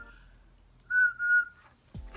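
Cartoon whistle from the Ed, Edd n Eddy series, a sustained clear tone with a wavering middle that holds for about half a second, followed by a brief low thump at the end.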